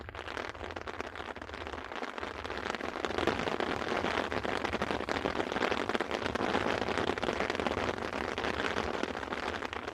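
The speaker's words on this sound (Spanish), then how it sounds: "Empezó a caer la lluvia." Heavy rain pours steadily for ten seconds, a dense continuous patter on a shelter that swells a little louder about halfway through, with no one speaking.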